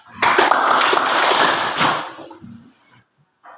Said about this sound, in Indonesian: marilah kita berikan tepuk tangan untuk kelompok 3